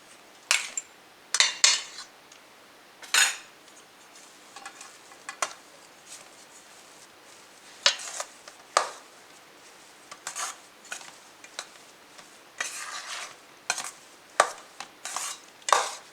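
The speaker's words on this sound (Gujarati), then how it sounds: "આ બધું આપણે આમાં મિક્સ કરી નાખીશું." Aloo paneer paratha filling being mixed in a bowl for a Gujarati recipe, with intermittent spoon-on-bowl clinks and scrapes in irregular bursts, close-up and fairly quiet between strikes, no talking.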